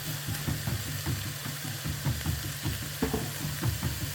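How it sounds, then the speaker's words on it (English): Half an onion sweating in a pot gives a steady soft sizzle, with light stirring scrapes and a low background hum throughout. "So now in this pot, I'm sweating about 1/2 of the onion."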